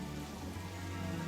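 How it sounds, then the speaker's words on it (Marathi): Rain, or water poured from above onto people on a ladder, falls as a steady, dense patter and hiss, quiet and continuous with no voices. "पाऊस."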